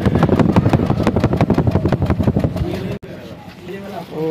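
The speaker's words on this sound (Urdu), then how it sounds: "یہ جو ہے نا اس طرح سے مسنگ آ رہی ہے گاڑی" A 2017 Toyota Corolla engine idles roughly with a misfire, giving a steady pulsing chug of uneven beats up close before it drops away briefly and settles into a lower rumble.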